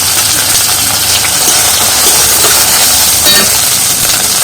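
Ginger, garlic and onion frying in a pan for a fish curry, a loud steady broadband sizzle and hiss that holds without pause, with no voices over it.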